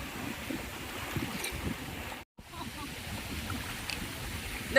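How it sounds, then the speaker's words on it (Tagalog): Rough sea waves at a beach, a continuous washing roar of surf with wind buffeting the microphone, fairly faint and steady with a brief dropout midway. "Dagat. Maalon."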